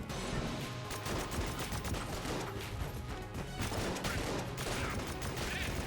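Rapid gunfire from the video game Enter the Gungeon in repeated three-shot bursts, loud and continuous, with crashing impacts blending into a dense, noisy din.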